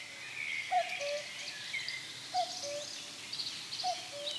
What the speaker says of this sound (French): On vient d'entendre le coucou.